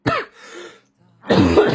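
A short throat clearing and cough after a bout of laughter: a harsh burst, a softer rasping stretch, a brief pause, then a louder, rougher cough-clear close to the microphone.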